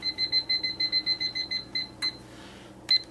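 An alarm clock beeps in a rapid, even series of high tones, stops briefly, then gives one more short beep.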